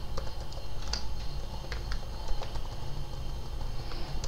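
Steady typing on a computer keyboard while writing React Native code, with quick irregular key clicks at close range and no talking.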